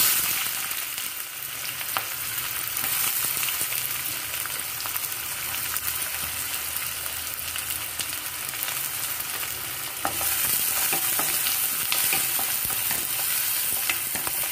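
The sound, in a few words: chopped onion frying in hot oil in a wok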